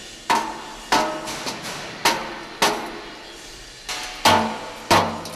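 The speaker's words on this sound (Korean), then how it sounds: "망치질로 강판을 교정하는 것이야말로 연륜과 노하우 없이는 불가능한 일" A hand hammer strikes a steel plate being straightened for a safe in a factory, eight or so loud, ringing metallic blows at irregular intervals, each decaying briefly, with no talking.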